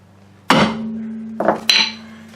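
A hammer taps on the steering spindle of a 1999 Ford Contour to knock it out of the rear strut: three sharp, ringing metallic strikes up close, the first louder, with a short decaying ring after each.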